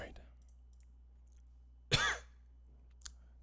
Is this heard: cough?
yes